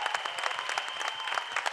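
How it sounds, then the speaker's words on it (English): Applause at a film trailer launch event, a dense burst of clapping from a large crowd, steady and fairly close for the whole moment. "please give a big round of applause to Ojas"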